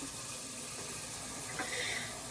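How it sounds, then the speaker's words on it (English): Tap water runs steadily into a pot, a continuous, fairly quiet rushing flow with a slight rise in pitch near the end. "I put water in the pot."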